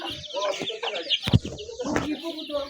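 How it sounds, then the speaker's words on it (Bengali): Chickens clucking nearby, a busy overlapping chorus of short clucks and squawks with a louder burst midway, continuing throughout. "আমাদের এখানে অনেক মুরগি"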